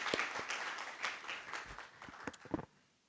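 A group of students in a lecture hall gives a round of applause, moderately faint and steady, thinning out toward the end.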